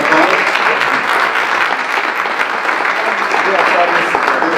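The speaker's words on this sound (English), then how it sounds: "Let's give them a round of applause." Sustained audience applause for sheriff candidates at a county forum panel fills the hall, loud and steady throughout with no gaps.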